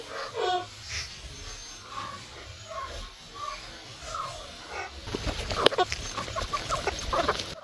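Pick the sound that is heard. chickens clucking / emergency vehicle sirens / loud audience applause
chickens clucking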